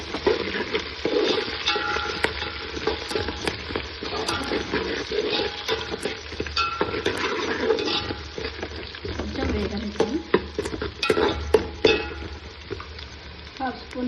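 Curry leaves crackle and sizzle in hot oil for gongura mutton curry, a busy, continuous frying hiss with sharp pops and occasional stirring scrapes, close and steady for several seconds.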